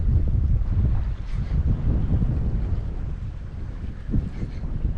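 Steady wind of about 10 mph blowing across the open fishing flats at Corpus Christi, Texas, buffeting the microphone in a continuous rumbling gusty roar with slight surges, no voices.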